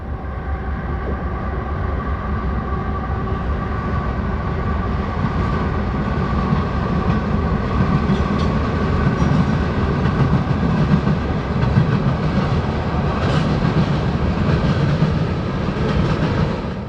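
Freight train carrying a wide load rolls past on the Port Road line near Conowingo Creek, a loud, continuous rumble and clatter of cars on rails that holds steady throughout, no talk.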